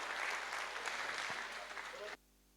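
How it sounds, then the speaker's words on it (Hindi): A cultural-evening audience applauds a children's dance drama from Mehsana: dense, loud, sustained clapping that cuts off abruptly after about two seconds. "जोरदार ताली बजाकर बच्चों का उत्साह बढ़ाएंगे।"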